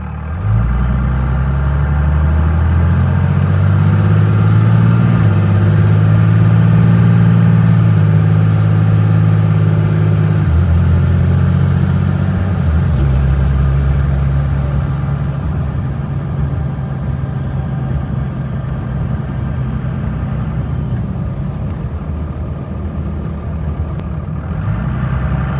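Truck engine fitted with a PDD Aggressor turbo and Banks exhaust running steadily, a loud, deep droning idle with a faint turbo whine above it, dropping slightly in pitch and volume partway through.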